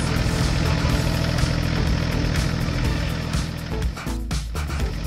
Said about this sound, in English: the X1000 tractor stopped at the beginning of the field